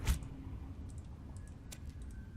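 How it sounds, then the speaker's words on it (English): Rapid, soft computer mouse and key clicks while playing Subnautica, faint and scattered in quick bursts over a steady low background hum. "you can probably hear that furious clicking"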